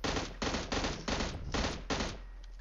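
Rapid automatic gunfire in the video game PUBG Mobile: six short bursts in quick succession, evenly spaced and fairly loud, with a faint tail after the last burst.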